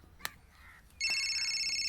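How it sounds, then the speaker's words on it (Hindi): A phone in a scene from a dubbed Hindi drama film starts ringing with a steady, bright electronic tone after a few faint knocks and rustles. The ring is loud and continuous, with no speech over it. "भैया फोन बज रहा है भैया।"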